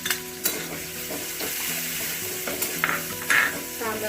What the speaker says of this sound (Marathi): कांदा चांगला आपल्याला परतून घ्यायचा आहे